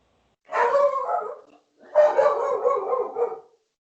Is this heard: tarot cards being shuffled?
no